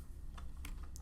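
Typing on a computer keyboard, a few soft key taps over a steady low hum, faint and close, with no voices.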